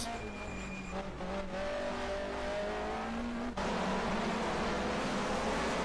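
Racing cars of the 1979 DRM Division 2 field roar away at the start of the ADAC Trophy at Zandvoort, a dense steady engine drone with rising revs, heard from a distance under a commentator's voice.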